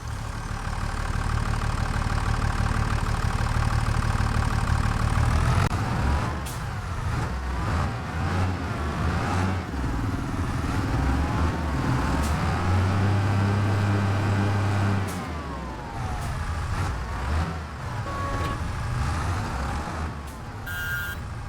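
A tractor-pulled mower in Farming Simulator 25 runs with a loud, steady engine drone that shifts in pitch partway through. Brief beeping tones rise above it, and no one speaks.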